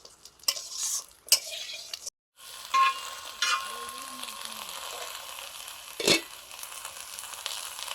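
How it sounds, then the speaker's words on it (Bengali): Bhetki fish paturi, wrapped and covered on a flat tawa pan, fries with a soft, steady sizzle, broken by a few louder clattering knocks and a brief pause around two seconds. "পাতুরিগুলো এখনও ভাজা চলছে"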